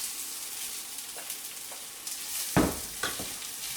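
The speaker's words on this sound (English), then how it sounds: "Frying pan got a little sizzle going, I think, so in go the onions." Onions sizzle and crackle steadily in a hot frying pan, with a few louder sputters and scraping stirs partway through.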